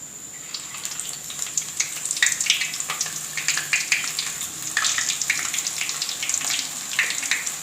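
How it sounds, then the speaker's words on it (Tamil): Boondi batter dripping into hot oil in a wok, a steady fizzing sizzle with scattered crackling pops throughout, close and fairly loud, no talking. "இப்போ பூந்தி சுடுறதுக்கு நான் வானலில் எண்ணெய் சூடு பண்ணி வச்சுருக்குறேங்க"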